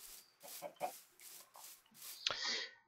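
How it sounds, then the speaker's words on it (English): Chickens cluck repeatedly in a Minecraft ravine, a run of short quiet game clucks in loose rhythm, followed by one sharper burst near the end. "these chickens are definitely spreading out"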